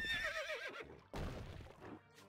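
A horse in the video game Stronghold: Crusader lets out a high, wavering whinny, followed by a short snort and a lower rumbling neigh, close and clear.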